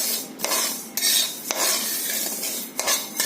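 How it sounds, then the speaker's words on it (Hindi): Spices dry-roasting in a pan over a slow flame for pickle: steady scraping and stirring with a utensil, periodic metallic clinks, close and moderately loud, no talking. "ड्राई रोस्ट होगा, ये सूखा भुना जाएगा और वो भी एकदम स्लो फ्लेम में।"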